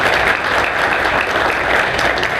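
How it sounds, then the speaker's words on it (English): Steady, dense applause fills a hall at a political debate in Chipley, Florida, continuous and fairly loud without pause. "A big round of applause,"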